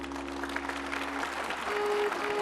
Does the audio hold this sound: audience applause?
yes